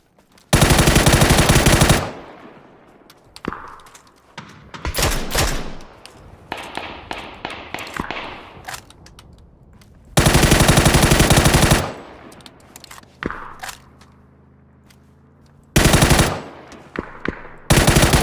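Gunfire in the video game PUBG comes in three loud automatic bursts, each lasting one to two seconds, with scattered single shots and thuds between them, and no talking.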